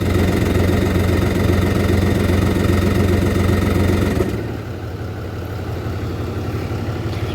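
A jet ski engine running at a steady idle, a loud close droning rumble that drops to a quieter, lower hum partway through, without talk.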